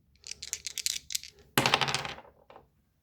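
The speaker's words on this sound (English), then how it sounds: "The 12-sided die will select the story within the book. Okay, first roll." Six-sided and twelve-sided dice rolled onto a hard surface: a quick run of small clicking rattles, then a louder clattering tumble that settles into a couple of faint final taps, close up and alone.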